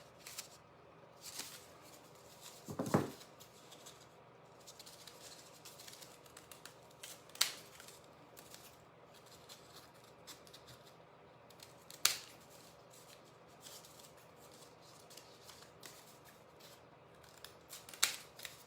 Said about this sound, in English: I'm just going to snip it to a point